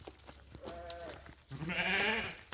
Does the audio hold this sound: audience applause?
no